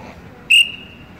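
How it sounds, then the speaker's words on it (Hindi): A traffic police officer gives one short, sharp, shrill whistle blast, loud and close, that trails off quickly. "सीटी बजाते हैं।"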